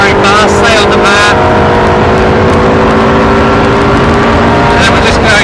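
Ferrari race car at full throttle on the Silverstone straight, a loud sustained engine drone heard from on board, steady and close, with a voice talking over it.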